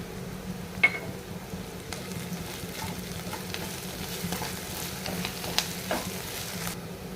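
Onions and curry leaves fry in hot oil as the tempering for a spicy chutney: a soft, steady sizzle with a few sharp crackles and pops scattered through, with no one talking.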